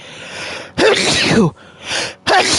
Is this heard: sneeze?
yes